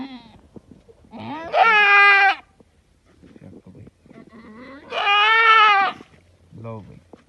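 A goat bleats loudly twice at close range during a difficult birth, each cry drawn out, with a shorter bleat near the end and people speaking between calls.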